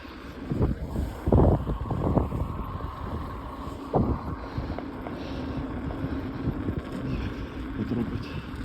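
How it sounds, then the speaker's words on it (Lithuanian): Strong headwind buffets the microphone while cycling along the Latvian seaside between Kesterciems and Roja, a continuous rumbling roar with louder gusts throughout, no talk. "Bet kaip pučnis tas vėjas iš priekio"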